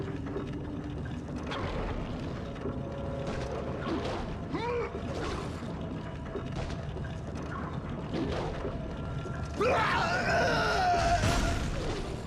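A grinding mechanism from the video game God of War II creaks and groans with ratcheting gear clanks, ending in a louder strained metallic grinding burst.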